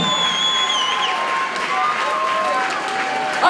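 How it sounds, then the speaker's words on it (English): A crowd applauds and cheers for the fighters at a cage-fighting event, a dense, steady wash of clapping and shouts that lasts throughout, with whistle-like tones running through it. "Go ahead and give those fighters a round of applause."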